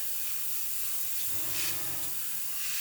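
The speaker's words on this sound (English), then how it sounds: "So I'm just going to spray this black on here, keeping it dry," Black paint sprayed dry onto a 1/35 scale Meng Chieftain Mk10 model tank wheel, a steady close airbrush hiss running throughout without pause.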